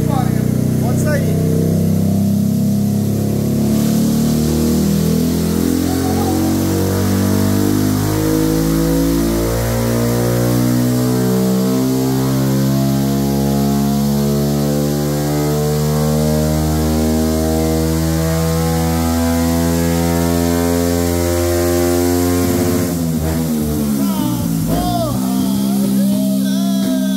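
A Honda Pop 110i motorcycle engine revs loudly and steadily, pitch climbing through the gears before dropping off near the end.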